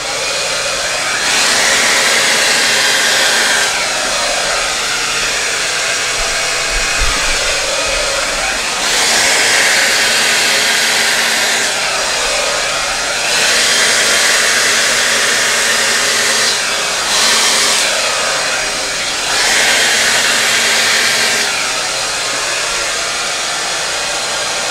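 A heat torch blows a loud, steady rushing roar over acrylic paint, swelling and easing in repeated passes for about twenty-five seconds with no talking.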